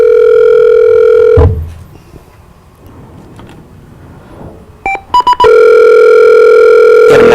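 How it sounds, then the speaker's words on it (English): A loud, steady telephone dial tone sounds alone on an open line as a call is placed on a radio show, breaks off into a brief quiet stretch with a few short tone blips, then returns just as loud. "We're going to talk to Buzzy Linhart if he picks up the phone"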